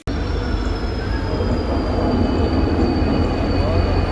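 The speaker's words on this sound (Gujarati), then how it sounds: "ટ્રેન આવી ગઈ છે" A train rolls into a station loud and close, a steady rumble of wheels on rails with thin metallic squeals held throughout.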